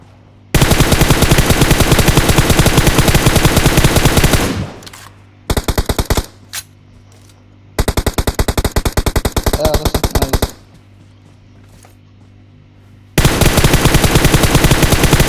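Automatic gunfire in the PUBG video game, loud rapid bursts of machine-gun fire repeating in several long sustained volleys separated by short quiet gaps.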